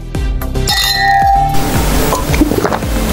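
Drinking glasses clinking together in a toast before cooking, several bright ringing clinks in quick succession, then a busier stretch of clatter and ringing.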